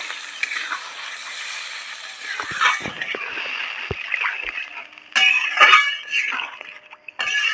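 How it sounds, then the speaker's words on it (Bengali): Water splashes into a hot pan of bitter gourd curry with potatoes, hissing and sizzling up close in uneven bursts, with a louder rush of splashing toward the end. "এখন আমি পরিমাণ মতো জল দিয়ে দেব"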